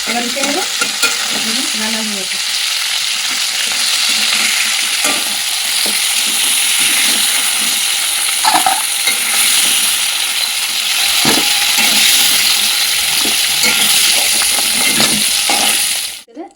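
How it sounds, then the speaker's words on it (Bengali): Potatoes fry in hot oil in a pan with a loud, steady sizzle and occasional stirring scrapes, running continuously before cutting off at the end. "আলুগুলো বেজে নিচ্ছি আলুগুলো ভাজা হয়ে গেছে লাল লাল হয়ে গেছে"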